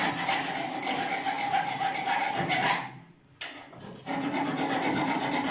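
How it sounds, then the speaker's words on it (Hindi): A hacksaw blade cuts around a steel rod for a homemade ceiling fan hook in steady back-and-forth rasping strokes. It sounds close and loud, with a brief pause before the sawing resumes. "ये अभी हमने 3 इंच इसको छोड़ के ज़्यादा को अपने आरी के ब्लेड के साथ चारों तरफ से हल्का हल्का सा काट लगाएंगे इस तरह।"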